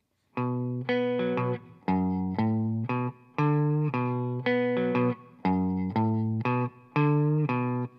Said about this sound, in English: So I'm just putting a little bend right there.